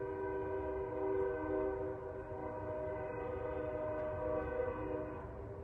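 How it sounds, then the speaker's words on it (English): A train rumbles past at a distance with a sustained horn-like tonal drone, steady and moderately faint, no voices. "You're going to hear the train."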